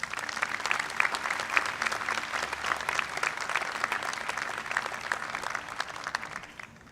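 A large crowd at an outdoor university convocation on a historic campus green applauds, a sustained, dense roar of clapping that stays steady throughout and thins slightly at the very end.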